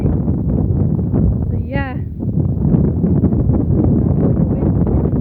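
Steady wind buffeting a microphone during an outdoor bike ride on a windy day, a constant broadband roar throughout with someone speaking over it.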